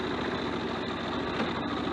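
A motorbike idles quietly and steadily nearby, a smooth, even low thrum with no revving and no talk.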